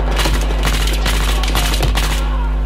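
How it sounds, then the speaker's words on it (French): A burst of automatic gunfire in Battlefield 4 rips out loud and close, sustained rapid shots over a heavy rumbling bed. "c'était un rafale"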